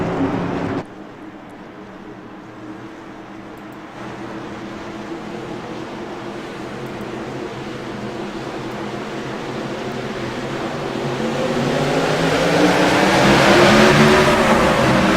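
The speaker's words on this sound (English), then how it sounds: "pace car going to duck onto pit road, and we're going back to green flag racing" Race cars accelerate away on a green flag restart, a dense engine roar that swells steadily louder and higher toward the end as the pack builds speed.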